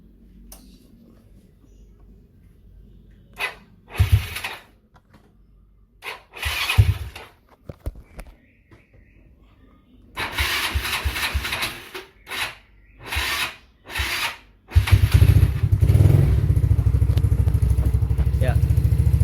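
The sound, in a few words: restored Yamaha Mio motorcycle engine being started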